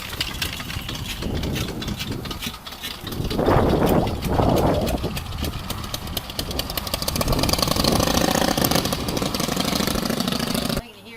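A veteran Minerva motorcycle engine runs steadily for a test ride, a rapid uneven chuffing and knocking beat that swells in loudness partway through, with faint voices under it.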